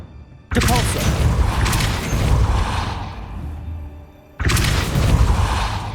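The Depulso force spell being cast in Hogwarts Legacy: two loud, sudden bursts, each a booming whoosh with a crashing impact that rings and fades over several seconds.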